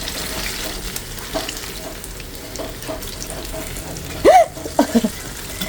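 Oat sugar being mixed in a small frying pan makes a soft, continuous scraping and sizzling hiss, close by. Near the end a few brief voiced, hiccup-like sounds cut in.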